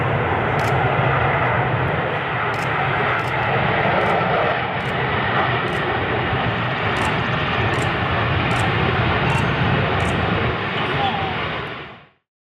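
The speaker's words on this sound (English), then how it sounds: "It's called the B-2 stealth bomber." A B-2 Spirit stealth bomber flying overhead, a loud continuous roar of jet engines that holds steady and then cuts off abruptly.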